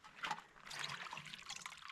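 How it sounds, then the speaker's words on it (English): Water wrung by hand from shredded banana stem, a faint close trickle and splash of liquid dribbling out for about two seconds. "Squeeze out the water."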